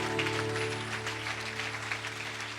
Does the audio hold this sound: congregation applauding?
yes